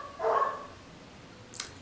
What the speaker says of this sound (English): If you hear dogs barking outside, I really can't do anything about it.